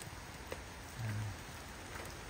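Steady rain falling and growing heavier, a soft constant patter on surfaces with no voices present.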